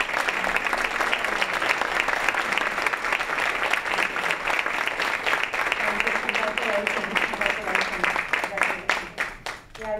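An audience at a Lexus dealership award event breaks into sustained applause, many hands clapping densely and steadily, with individual sharp claps standing out near the end as it thins and voices come through underneath.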